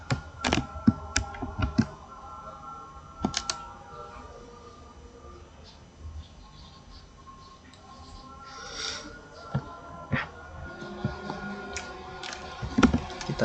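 Keystrokes on a computer keyboard during a programming demo, scattered clusters of sharp close clicks with irregular pauses between bursts, over a low quiet room hum.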